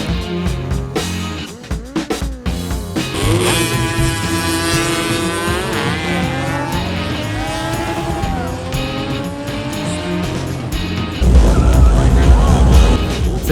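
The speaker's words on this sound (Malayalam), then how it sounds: "ഹയബസ് തൊട്ട് അതെ ഇത് മോഡിഫൈ ചെയ്തൊരു ചെറിയ വണ്ടി" A small modified vehicle revs its engine at a drag race event with drifting, loud and continuous, with harmonic engine whines rising and falling and a heavier roar near the end; people talk faintly in the background.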